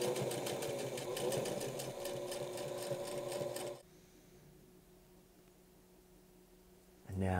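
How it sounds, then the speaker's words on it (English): A sewing machine runs a quick top stitch along the shoulders of a pair of pajamas, a close, steady mechanical whir lasting a few seconds before stopping abruptly, leaving quiet room tone, then starting again briefly at the end. "And then a quick top stitch along the shoulders as well."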